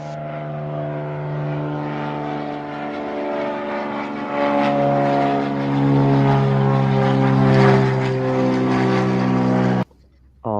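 An FMS 1.5-meter Cessna 182 RC model airplane flies past with a steady, loud propeller drone that swells and shifts pitch, then cuts off abruptly near the end.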